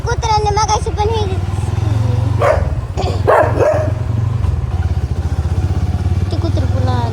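A dog barks a few times close behind a moving motorcycle, the sharp yelps riding over the steady engine drone while people talk.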